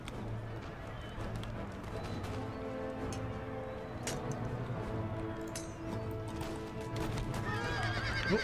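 Horses whinny and hooves clatter amid a cavalry battle in Empire: Total War, with a repeated neigh, steady galloping and distant clinks of combat, all fairly faint and continuous, and a voice talking over parts of it.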